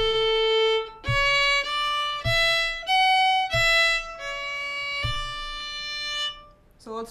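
Solo fiddle playing the opening phrase of the tune Red Haired Boy, starting on open A, a clear close-up run of bowed notes with short breaks, alone without talk.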